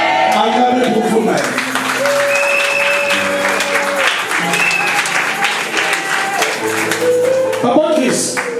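Congregation applause during a church wedding ceremony, sustained clapping mixed with cheering and a continuous backing of music, with a voice over the top.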